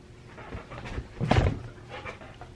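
A door swings open to let a dog outside, giving a brief creak and thump near the middle of an otherwise quiet indoor moment.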